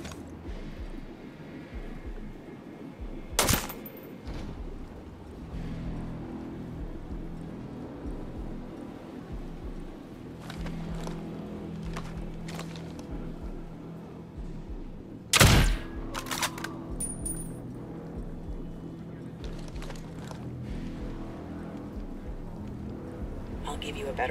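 Sniper rifle shots crack out in Ghost Recon Breakpoint, two sharp isolated reports spaced well apart over a quiet game ambience, with voices talking between them.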